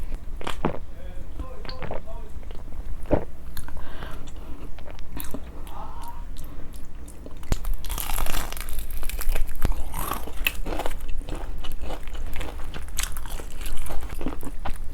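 Crunchy bites into BBQ Golden Olive fried chicken, loud close chewing and crackling crunches that build in the second half, with brief speech-like sounds mixed in.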